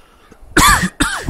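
Two sharp, close coughs from one person in quick succession, loud against a quiet background.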